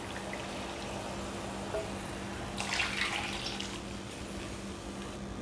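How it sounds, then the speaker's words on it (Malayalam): Water is poured into a pan for vermicelli upma. A brief, bright splashing pour rises in the middle over a steady low background hum. "ഞാനിനി ഇതിലോട്ട് വെള്ളം ഒഴിച്ച് കൊടുക്കുകയാണ്"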